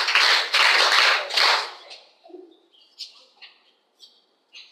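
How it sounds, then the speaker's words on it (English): Students in a girls' secondary school classroom clapping for a classmate, a short, lively burst of applause lasting under two seconds that quickly fades to quiet, with a few faint chirps afterward. "Okay, clap for her."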